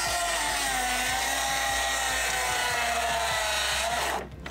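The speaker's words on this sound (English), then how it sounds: "I can just kind of push the saw with my whole body and not my arms" A power saw cutting through wood for stair building, a loud continuous whining cut with a rhythmic low chatter that stops abruptly at the end, with no talk.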